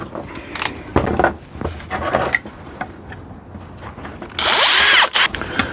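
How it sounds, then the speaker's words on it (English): A power drill whirs in short bursts, biting into a costume mask or prop with scraping and grinding, then a longer loud high-pitched run near the end. "I'll just use the same size drill bit for those holes."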